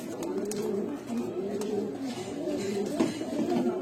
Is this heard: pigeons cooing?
yes